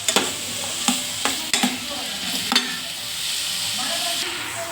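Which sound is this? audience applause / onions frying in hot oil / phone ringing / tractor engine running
onions frying in hot oil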